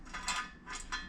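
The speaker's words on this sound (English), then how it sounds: "we're going to take our 14mm socket, and I'm just going to run these guys down by hand" A 14mm socket spins engine case bolts down by hand on a bare two-stroke engine case, producing short soft metallic ratcheting bursts close by, with no talking.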